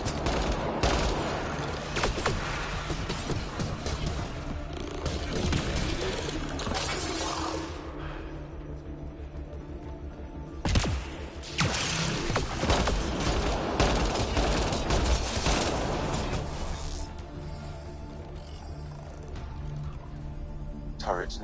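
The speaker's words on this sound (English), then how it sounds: "Turret nearby, Pathfinder." Rapid turret gunfire in the video game Mass Effect, dense sustained bursts of shots with mechanical clatter, mixed with game sound effects and voices talking.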